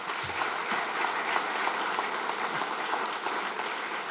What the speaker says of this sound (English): Another round of applause for Paul Watkins.